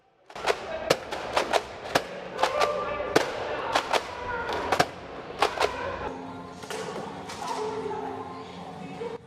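Apollo pump-grip foam dart blaster with a 3-D printed mod firing a rapid string of sharp snapping shots at close range indoors, roughly a dozen crisp pops spread irregularly over several seconds.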